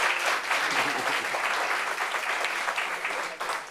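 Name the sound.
audience applause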